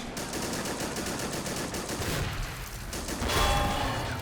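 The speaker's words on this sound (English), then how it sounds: "There he comes with his 50 cal turret firing up there." A .50 cal turret machine gun on a World War II tank at the Normandy D-Day landing in Men of War hammers out sustained rapid bursts, loud and steady, with a heavier boom near the end.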